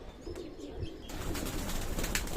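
Soft cooing of Fakirgul pigeons against a steady background hum, faint and fairly close.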